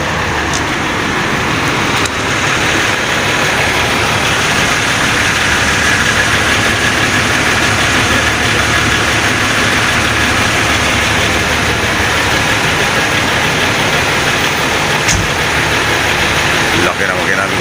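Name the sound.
Yutong bus engine idling in parking area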